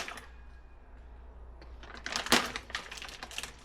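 Cutters snipping through the plastic packaging on a new turbocharger, a quick run of sharp crackling snips and rustles that grows louder after a quiet start, close by, with no talking.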